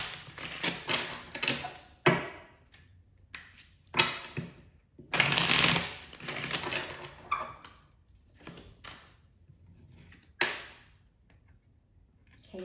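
Lenormand oracle cards being shuffled and handled make a series of crisp riffling bursts and soft slaps, loud and close, separated by brief pauses.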